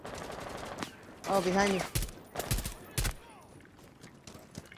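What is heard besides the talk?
gunfire in the video game Rainbow Six Siege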